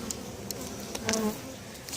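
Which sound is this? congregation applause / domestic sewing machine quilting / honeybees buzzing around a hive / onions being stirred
honeybees buzzing around a hive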